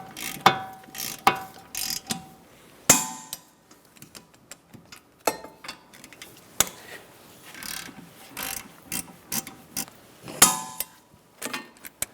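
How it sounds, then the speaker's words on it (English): A torque wrench tightens brake caliper bolts on a Buick Encore. It gives a series of close, crisp ratcheting clicks in short uneven bursts, with quiet pauses between the strokes. "We're going to torque those bolts to 74 foot-pounds."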